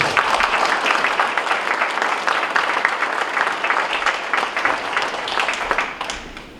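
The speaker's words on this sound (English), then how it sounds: "Let's give them a round of applause as well." Sustained applause at a school district board meeting honoring student performers, a dense, even roar of many hands clapping at close range that tapers off near the end.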